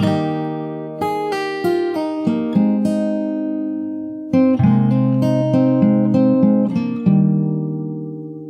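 Acoustic guitar playing the next section of a song from The Last of Us Part II alongside the opening part, slow plucked notes and chords ringing out, with a fresh strum near the middle, close and clear with no talking.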